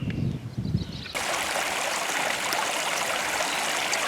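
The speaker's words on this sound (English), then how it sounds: "A little babbling brook" A little babbling brook runs outside a farmhouse front door near Shap Abbey. After a quieter opening second, a steady, close, rushing and trickling flow fills the scene with no talk.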